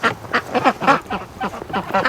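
A flock of ducks, drakes among them, quacks loudly and continuously nearby, overlapping calls in a rapid, rhythmic chorus outdoors on a cold day.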